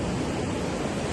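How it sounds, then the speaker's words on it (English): Ocean surf washing continuously, a dense broadband roar with no distinct breaks, close and steady with no voices. "we're at the ocean"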